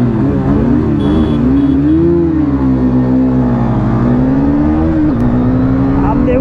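A Yamaha FZ250 motorcycle accelerates hard in a drag race on its five-speed gearbox. The loud, continuous engine drone rises and dips in pitch as it pulls through the gears, with wind rush throughout.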